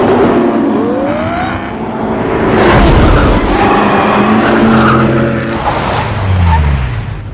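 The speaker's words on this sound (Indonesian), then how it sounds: "Carroll mengajak Ken untuk mencoba mobil balap yang baru saja dikirim dari Inggris" A racing car freshly shipped from England revs and roars along a track, engine pitch rising and falling through gear changes, loud and close with a brief passing swell, some talk faintly underneath.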